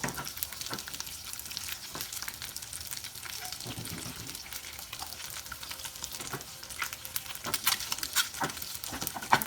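Eggs fry in a pan for a keto breakfast, giving a steady soft sizzle with scattered light crackles and pops throughout, fairly close and alone.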